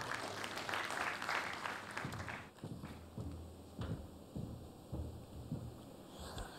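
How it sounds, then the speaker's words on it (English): Conference attendees at a business forum session on sustainable living give a loud round of applause that fills the first few seconds and then cuts off, leaving quieter sporadic sounds and a voice afterward. "Let's give her a round of applause."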